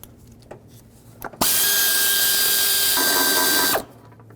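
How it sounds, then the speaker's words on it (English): A power tool breaks loose and spins off the 12 mm intake manifold nuts on a 2002–06 Toyota Camry, one loud continuous whir of about two seconds with a slight change in pitch partway through, after a few faint clicks. "I'm going to start with these 2 nuts up here. Break them free and just take them off completely."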